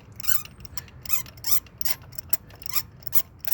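A spark plug on a Kia Optima is spun out by hand after being loosened, giving a fast, continuous ratcheting rattle of thread clicks, close and fairly loud with no talking.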